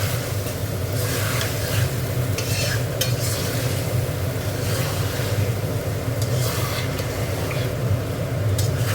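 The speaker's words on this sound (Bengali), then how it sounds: "একটু ধুয়ে জল দিয়ে দিচ্ছি, গরম জল দিয়ে দিয়ে কষবো।" Chicken cooked with gondhoraj lemon leaves sizzles loudly in a pan while being stirred steadily. The frying hiss is constant and close, with scraping stirs on top and no talking.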